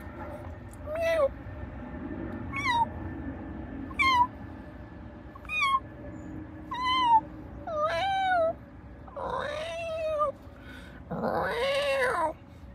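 A cat meows repeatedly, about eight short rising-falling calls spaced a second or two apart, the last few longer and more insistent, over a low background hum.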